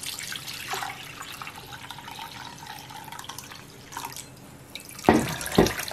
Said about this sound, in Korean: 이 국물은 갈라서 기름을 쫙 빼주겠습니다.